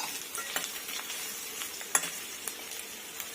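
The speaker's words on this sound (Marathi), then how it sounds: "कांदा घालूया. मी इथे मीडियम साईजचे 2 कांदे घेतलेले आहेत." Two medium onions fry in a pan for shahi paneer, giving a soft continuous sizzle broken by scraping stirs and a few sharp clicks of a utensil against the metal.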